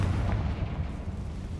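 A Confringo blasting spell in Hogwarts Legacy goes off as a single heavy, booming explosion with a deep rumbling low end that rolls on for over a second.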